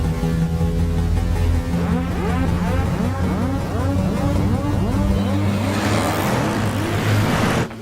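A Scorpio SUV speeds through a film chase scene, its engine roaring and rising in pitch over a tense music bed before the sound cuts off at the end.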